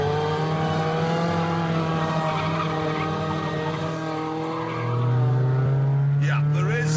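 A Radical SR3 with a turbocharged 1.6 litre engine accelerates, holding a loud, steady engine drone close by that climbs in pitch near the end, with tyre squeal and a brief voice underneath.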